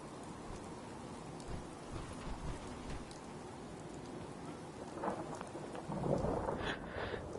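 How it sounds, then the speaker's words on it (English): Steady rain falls throughout with rumbles of thunder in a Fallout 4 game storm, the thunder swelling louder near the end. "Damn rain."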